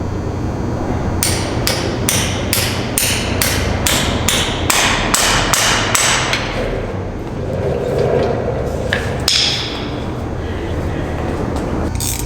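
A lag bolt is hammered down during a machine setup: a quick run of about a dozen sharp, evenly spaced metallic blows, then a pause and a few scattered heavier strikes, all close and loud.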